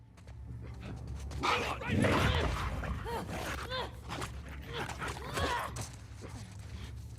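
A dog in the video game The Last of Us Part II barks and growls in loud, repeated bursts over game noise and rumble, with someone talking faintly underneath.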